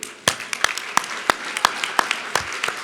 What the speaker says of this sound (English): would you please stand and let us applaud you?